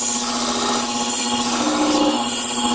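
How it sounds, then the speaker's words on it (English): A 500 grit diamond wheel grinding the bevel edge of steel shears, a loud continuous high-pitched abrasive whine with a steady motor hum underneath, close up and without talking. "Okay, I'm ready to cut now with this 500 grit diamond."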